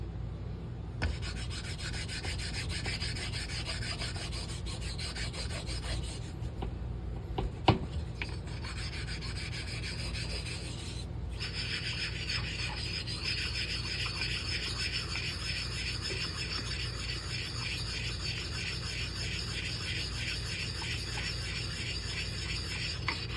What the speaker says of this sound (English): I'm going to use this other slate to slurry it up.